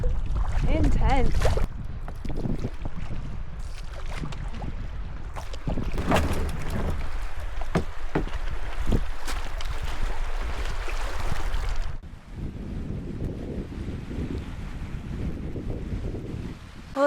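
Wind gusts and choppy sea waves buffet a sea kayak off the Canadian coast, a loud continuous roar with water sloshing against the hull and wind rumbling across the microphone, easing slightly near the end.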